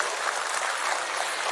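Steady audience applause at a Tamil award ceremony as a memento is presented on stage, a dense, even patter of many hands clapping with no voices over it.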